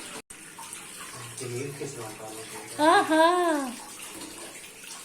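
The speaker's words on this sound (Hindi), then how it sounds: "मैं सारी कलेजी पोटा धो लेता हूँ" Liver and tripe being rinsed under a running kitchen tap: a continuous gushing and splashing stream, with a voice briefly exclaiming and humming over the water partway through.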